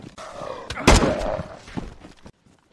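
Gunfire in a 2-vs-2 zombie survival video game: a single heavy blast booms out near the middle, trailing into rumbling echoes and scattered thumps before cutting to silence.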